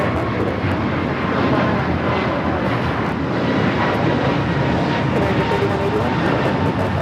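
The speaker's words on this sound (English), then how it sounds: "This is Fiji Flight 810 coming up from Nandi." Fiji Airways Flight 810, a jet airliner arriving from Nadi, gives a steady, loud broadband roar that holds evenly throughout with no pauses.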